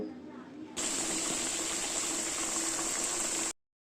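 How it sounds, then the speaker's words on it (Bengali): Potatoes sizzle loudly and steadily in hot oil. The hiss starts abruptly after a short quiet moment and then cuts off. "এখন একটু লবণ আর একটু হলুদ গুঁড়ো দিয়ে আলুগুলো ভেজে নেব"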